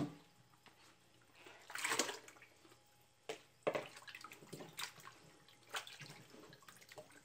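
Chicken gizzards being placed into a bowl of water with vinegar, giving soft splashing and sloshing with a few louder pours and drips, close by and without talk.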